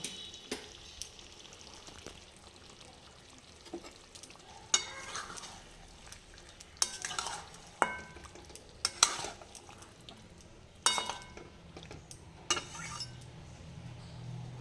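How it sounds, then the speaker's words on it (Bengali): Mutton being stirred in a pot while it fries slowly over low heat for a red curry, with scraping spoon strokes and clinks against the pot over a low, steady sizzle. "আমি এখন ঢাকা খুলে দেখে নিচ্ছি মটনটা ঠিকভাবে কষানো হয়েছে কিনা"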